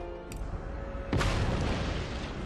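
A single deep cannon blast from a naval or field battery in Empire: Total War booms out mid-clip, followed by a lingering rumbling decay over faint background tones.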